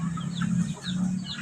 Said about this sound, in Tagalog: Magpapakain naman tayo ng ating mga alagang mga manok at saka pato.